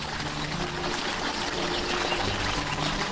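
A strong jet of water gushes up from the ground and fills a dry village pond in a 2D animation, a continuous loud rushing, splashing roar that holds steady throughout.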